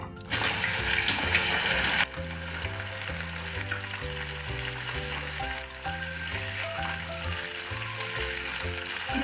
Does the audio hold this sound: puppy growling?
no